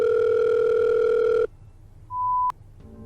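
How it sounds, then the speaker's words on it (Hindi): A telephone dial tone holds steady and loud for about a second and a half, then cuts out; a single higher beep follows after a short pause, ending in a sharp click. "मीरा ने कुछ सोचते हुए अपना फोन उठाया और विवान को कॉल मिला दिया."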